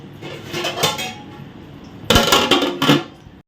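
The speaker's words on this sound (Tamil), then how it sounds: "இப்போ நம்ம வந்து ஒரு பிளேட்டு போட்டு இதோட மூடி போட்டு மூடிடலாம்" A metal plate set as a lid over a pot of fish curry, with some soft handling clatter, then two loud close clanks of metal on metal.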